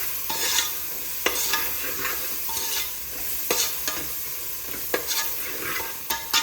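Coriander leaves are stirred into palak soya pulao as it fries, producing a continuous sizzle broken by regular spoon scrapes and clinks against the pan, fairly close.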